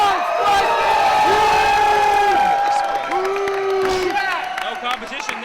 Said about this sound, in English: Shane Stevens has the crowd solidly behind him.